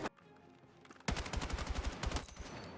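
Automatic gunfire at a firing range in the video game Battlefield 6 rattles off in a fast, loud, sustained burst of close shots, with a brief lone shot at the start and no talk.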